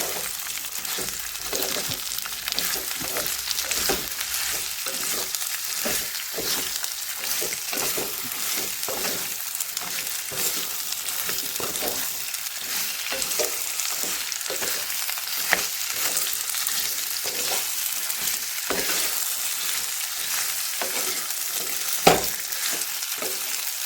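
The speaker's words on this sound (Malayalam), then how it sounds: "ഞാൻ ഇതിലോട്ടിട്ട് നന്നായിട്ടൊന്ന് ഇളക്കി കൊടുക്കുകയാണ്." Four mangoes are stirred in hot oil in a pan, a continuous close sizzle broken by rhythmic scraping strokes and an occasional clack, with no one talking.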